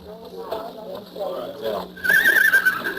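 At a rodeo corral, a horse gives a loud, wavering whinny in the final second, following moments of people talking in the foreground.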